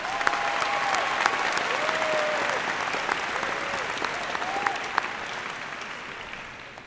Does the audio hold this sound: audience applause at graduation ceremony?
yes